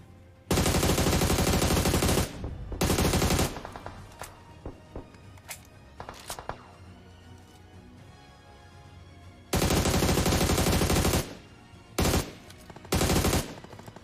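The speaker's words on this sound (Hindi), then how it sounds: "मुझे इधर की तरफ से फायरिंग के साउंड आए" Automatic gunfire in a battle royale mobile shooter game: long sustained bursts of rapid fire, loud and close, separated by quieter stretches with scattered single shots and distant pops, with no talk over it.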